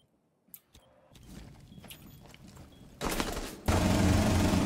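After a few footsteps, rapid bursts of Rainbow Six Siege gunfire erupt and grow louder, ending in a dense, continuous volley.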